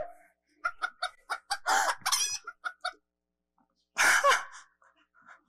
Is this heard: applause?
no